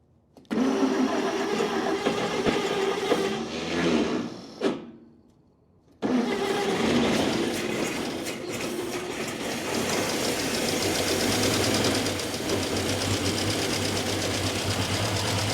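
A 1946 Chevy 2-ton truck engine cranks loudly with a whirring starter and stops briefly. It cranks again, catches and settles into a steady, rough-running idle.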